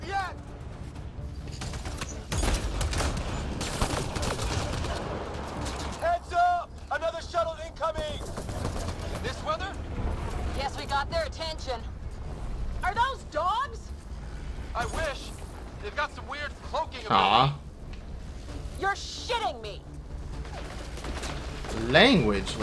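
Gunfire in a sci-fi shooter game, Mass Effect: Andromeda, with repeated bursts and bangs scattered across a busy battle mix, heard under frequent speech and voiced chatter throughout.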